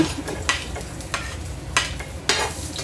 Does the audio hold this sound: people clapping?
no